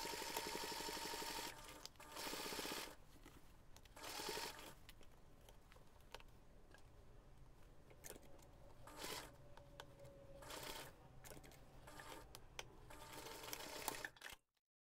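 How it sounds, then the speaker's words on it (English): Sewing machine stitching the side seam of a zipper pouch with a zipper foot, in bursts of rapid close whirring separated by short pauses and handling noises, ending abruptly. "you can easily sew the side seam without bumping or sewing through the zipper"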